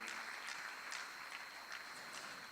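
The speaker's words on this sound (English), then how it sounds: "Keep clapping until I hand over the mic to him." Conference audience applause at a WISTA Africa regional gathering, a sustained, fairly faint and distant patter of many hands with sharper individual claps sticking out, steady throughout.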